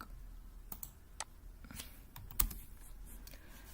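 Quiet computer keyboard typing with scattered mouse clicks, a sparse run of light taps and a slightly louder click near the middle, with no talking.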